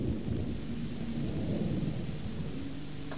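Thunder from lightning in a storm rolls as a dense, continuous low rumble, loud and steady throughout, with rain-like hiss and no voices.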